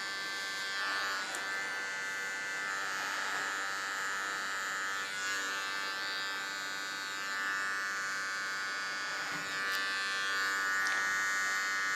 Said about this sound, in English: Now with my smallest comb and a small clipper I'm going to create nice clean contour lines.